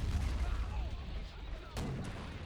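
Wespe self-propelled artillery in the Men of War: Assault Squad 2 video game fires in distant, muffled booms over a rumbling battlefield din, with a sharper crack near the end.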